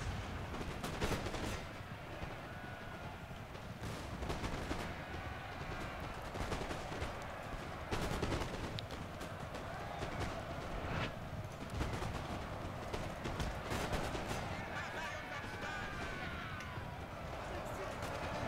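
Musket gunfire and cavalry clatter in a battle in the video game Napoleon Total War, with steady crackling volleys and rumbling hoof noise throughout, accompanied by a commentator's voice.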